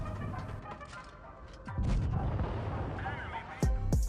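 In World of Tanks Blitz, tank cannons boom during a battle involving the IS-4 heavy tank, with heavy impact thuds, a loud blast near the end and game sound effects under a speaking voice.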